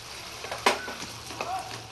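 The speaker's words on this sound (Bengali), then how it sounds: "এর মধ্যে আমি তরকারিটা ঢেলে দিলাম" Boiled vegetables tipped into a pan of fried bitter gourd for a Bengali fish-roe sukto, giving a short burst of sizzling and scraping that settles into soft frying crackle, close and without talk.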